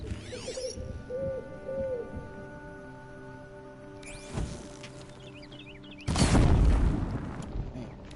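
Owls hooting in the video game Horizon Zero Dawn, a few clear hoots early on, then a sharp boom and a loud burst of noise near the end, with game sounds in the background and no talking.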